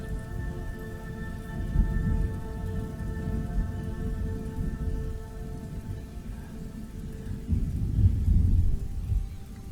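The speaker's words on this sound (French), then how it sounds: "cette tempête de stress devant vous est très sombre, alors que les nuages d'orage s'épaississent, pleuvant avec fureur" Steady rain falls through a thunderstorm, with low rumbling thunder swelling in loudness near two seconds and again around eight to nine seconds, a continuous wash of storm noise throughout.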